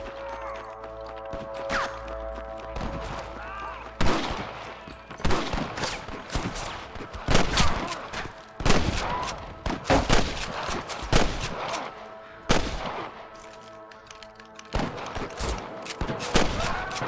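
Gunfire in the Red Dead Redemption western game: repeated sharp, loud shots in irregular bursts over a sustained musical score, some shots clustered close together like a fusillade.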